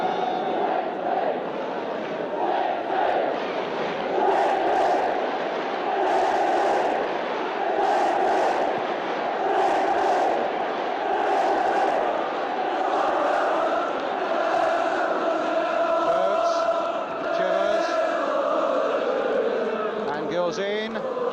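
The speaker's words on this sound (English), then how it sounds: "the crowd now, without too much to uplift them on the field, hoping that somehow they can inspire the players in this cup final" A large stadium crowd at the 1973 League Cup final between Tottenham and Norwich City keeps up loud, continuous chanting and roaring for the whole stretch. A commentator's voice is heard over the crowd.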